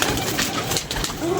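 Pigeons coo in low murmuring tones amid a dense, noisy outdoor background of rustling and chatter, with a voice briefly audible nearby.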